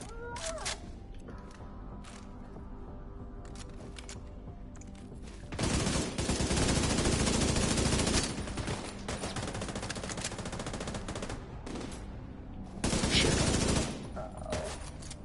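Indoor gunfights in the game Division 2 bring sharp bursts of automatic fire, with sustained fusillades around the middle and again near the end separated by quieter stretches of mechanical clicks, while players talk in between.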